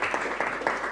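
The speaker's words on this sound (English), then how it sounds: "Zwiesel Glassware, please give them a big round of applause." A brief burst of applause from the audience at a live sommelier contest, honoring a glassware sponsor, steady clapping heard at moderate distance.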